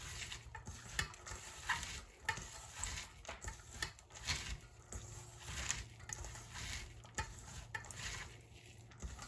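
Samosa filling with added salt is stirred in a bowl, making soft, irregular scraping and mixing strokes that are close but faint.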